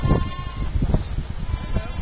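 Goats being trained for showing bleat close by: several short, wavering calls overlap in quick succession, loud and near, with farm background noise around them.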